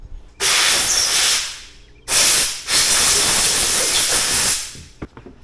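Compressed air hisses in loud bursts through a freshly cleaned RC car bearing, blowing out leftover brake cleaner: a short blast, a brief pause, then a longer sustained blast that tapers off, ending with a few faint clicks.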